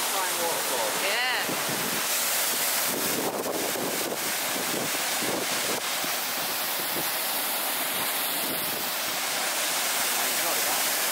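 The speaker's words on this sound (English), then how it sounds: "That is a mighty fine waterfall." A waterfall on the Dingle Peninsula pours with a constant broadband rush, heard outdoors with heavy wind buffeting the microphone throughout.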